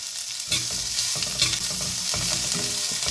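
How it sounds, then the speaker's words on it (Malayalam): Sliced onion with curry leaves sautéing in a pan, a loud close sizzle broken by several scraping stirs in an uneven rhythm, with no talking. "ഇത് നന്നായിട്ടൊന്ന് വഴറ്റിയെടുക്കണം"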